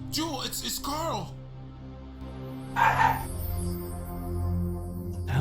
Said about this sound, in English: The hell's my dog barking at?